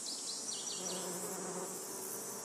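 Bees buzz steadily among the trees of an ancient olive forest, a dense, continuous droning hum with no voices.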